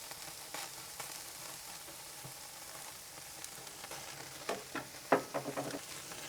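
Salted, peppered and oiled beef burger patties sizzle on a flame grill with a steady crackling hiss, and sharper pops and spatters come near the end, with no one talking.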